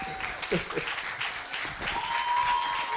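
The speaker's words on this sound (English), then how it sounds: "We need to keep clapping till he gets on stage." A TEDx audience at Nile University of Nigeria claps continuously as a speaker walks on stage, a close, full round of applause with a faint tone and brief voices mixed in.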